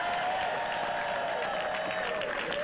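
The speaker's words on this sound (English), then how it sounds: "Let's give him a round of applause." Crowd applause at an election night rally rolls on steadily, a dense wash of clapping and cheering that stays loud from start to finish.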